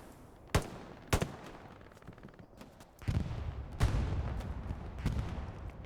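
Machine gun fire in Hell Let Loose on Pierre's Farm, with two distant single shots followed by sustained bursts of automatic fire that roll on at moderate volume.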